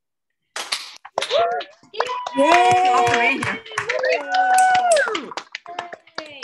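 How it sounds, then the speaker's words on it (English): Participants on an online video call at an entrepreneurship awards celebration clap in a loud, close round of applause, with excited cheering voices mixed over the clapping. "Maybe let's unmute and give one more big round of applause."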